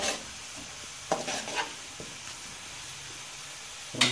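Fried onions with sugar being stirred in a pan, a soft continuous sizzle with a few scraping stir strokes near the start, middle and end, quiet and close with no talk.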